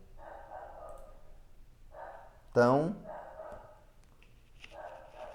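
A dog barks once, nearby and loud, in the middle of a short stretch of indoor talk, with a Portuguese-speaking voice continuing before and after the single bark.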